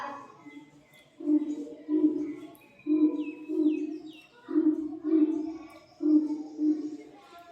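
A child imitates a pigeon's cooing, a series of low, rounded coos in a steady rhythm, with faint higher chirps behind.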